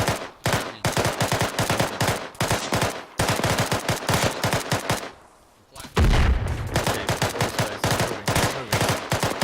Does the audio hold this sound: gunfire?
yes